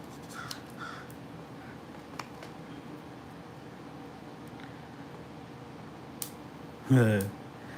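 A crow caws loudly nearby in a short harsh burst near the end, outdoors under steady hum from an air conditioner unit, with a few faint earlier calls.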